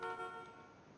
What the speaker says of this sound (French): klaxonne si tu peux